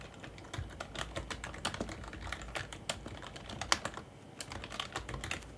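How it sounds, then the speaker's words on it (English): Rapid typing on a computer keyboard, close and steady, with dense clusters of sharp key clicks over low room hum and no voices. "You'll hear me typing as well."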